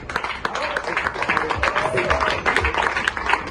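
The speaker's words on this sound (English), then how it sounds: "A round of applause for Ruth." An audience at a spoken-word event at Institut Français Nigeria gives a round of applause for the performer Ruth. Scattered hand claps run steadily under a voice that talks or cheers over them.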